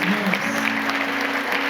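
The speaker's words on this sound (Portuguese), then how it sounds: "Vamos aplaudir Jesus por nossas mãos" A congregation claps in a Baptist church during a Mother's Day service, brief continuous applause with a voice and a sustained tone running underneath.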